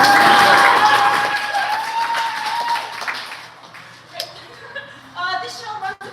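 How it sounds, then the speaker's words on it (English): A theatre audience applauds at the start of a small-scale Streetlight Shakespeare Ensemble staging of The Honest Woman's Revenge. The clapping begins full and loud, then thins and fades, with a few scattered sounds near the end. "Pause for applause."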